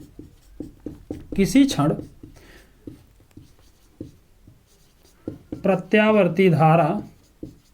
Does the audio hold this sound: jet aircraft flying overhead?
no